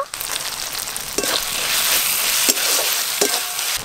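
Chopped tomato sizzling in oil with browned onion and ginger-garlic paste, a loud continuous frying hiss broken by several spatula stirs and scrapes against the pan, close up and without talk.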